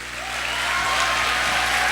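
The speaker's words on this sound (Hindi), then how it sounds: "जोरदार" Audience applause at a motivational speech event, a dense steady wash of clapping that swells in the first moments and then holds loud and continuous throughout.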